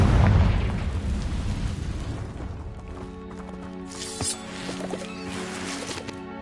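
A magical Confringo fire-blast spell detonates in the Hogwarts Legacy video game, a loud booming burst that rumbles and fades, followed by lighter crackling debris and fainter pops.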